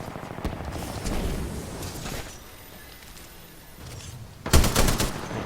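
Gunfire in the sci-fi shooter Titanfall 2 during an online multiplayer match: scattered rapid shots through the first seconds, then a loud, close burst of fire near the end.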